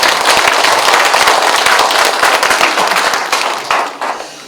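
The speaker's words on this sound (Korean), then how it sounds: "여러분, 최철규 후보자께 박수 한번 보내주시기 바랍니다." A debate audience applauds a candidate for Jeongseon county head in Sabuk, Gangwon: loud, dense clapping that holds steady, then thins and tapers toward the end.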